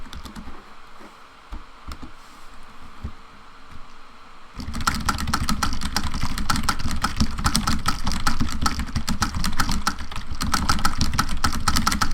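Fingers type on a cheap $10 computer keyboard, first in faint scattered taps, then a dense, loud, steady run of rapid key clicks that continues to the end.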